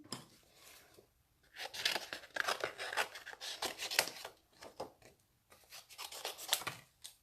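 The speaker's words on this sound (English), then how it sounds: "I'm just going to stamp out 2 sets of leaves and cut them out." Scissors cut out stamped paper leaves close up in short bursts of crisp snipping and rasping strokes, separated by brief quiet pauses.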